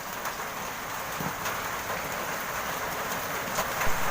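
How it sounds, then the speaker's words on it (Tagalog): Heavy rain pours steadily on a roof or surface nearby, a dense continuous hiss with occasional louder drops, no voices. "kung maririnig nyo, lakas po ng ulan dito sa amin ngayon"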